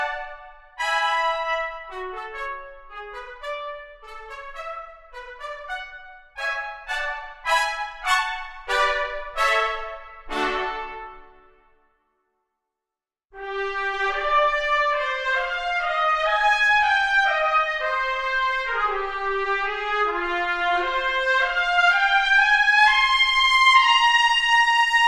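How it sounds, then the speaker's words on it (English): Cinebrass Core sampled orchestral trumpets play a bright run of rising staccato notes, pause briefly, then return with a fuller sustained legato phrase, clean and alone without speech. "So let's take a look at the trumpets."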